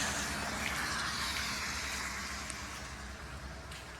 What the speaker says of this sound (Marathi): तर हे गाईस तुम्ही बघू शकता धबधबा किती मोठा आहे